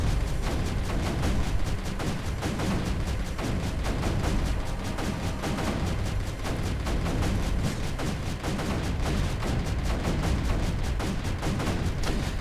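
Mortar and weapon fire from the strategy video game Creeper World 3 forms a dense, continuous barrage of rapid booming shots that stays loud and steady throughout, with no voices heard.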